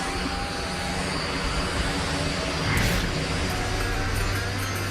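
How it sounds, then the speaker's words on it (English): ARCA stock car engines firing up at Talladega Superspeedway, a dense, continuous roar of many engines filling the air, with a brief louder swell midway and no voices. "drivers, start your engines"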